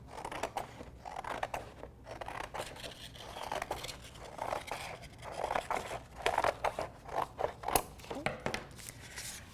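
Scissors cut paper for a children's art lesson, a run of crisp snips and rustling scrapes repeating in an uneven rhythm, close and moderately loud, with brief pauses between cuts.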